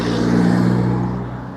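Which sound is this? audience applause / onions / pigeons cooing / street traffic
street traffic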